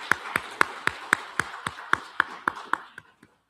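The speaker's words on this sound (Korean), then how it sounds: "박수하겠습니다." A church congregation in Seoul claps in steady unison, about a dozen sharp, evenly spaced beats that stop abruptly and leave a faint trailing clap.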